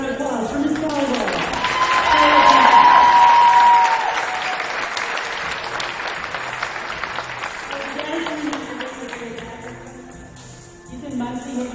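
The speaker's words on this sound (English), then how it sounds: "One last round of applause for Miss Volleyball." A volleyball all-star event crowd gives sustained loud applause for Miss Volleyball, swelling early then continuing steadily before tapering, with a voice speaking over the clapping.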